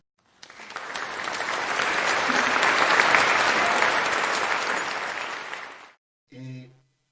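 Applause rises from an audience at a Pan-African radio station event honouring a Cameroonian woman host, a dense steady clapping lasting about five and a half seconds before stopping, followed by a brief short burst.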